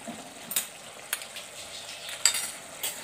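Masala with cashew paste fries in a pan with a soft, continuous sizzle, broken by several sharp scrapes and clinks of stirring spaced about half a second apart.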